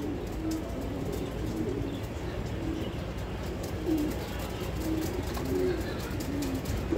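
Female racer pigeons at a farm loft at night, their soft low cooing repeating in short phrases against a steady background hum of many other pigeons nearby.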